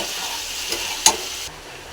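Khichuri mixed with a potato and spice blend in a full pot, with a brief close burst of frying sizzle and stirring, a sharp scrape of the spoon against the pot, then the sound softens and fades.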